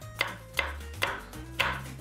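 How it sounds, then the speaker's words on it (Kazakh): A knife chops an apple on a cutting board with four crisp, evenly spaced strokes, each a sharp close-up knock, with no talking. "Алманы турауға кірсеміз."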